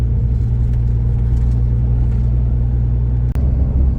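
Two-door Subaru cruising down the road from inside the cabin, a loud, steady low engine and road drone throughout, with a brief sharp click near the end.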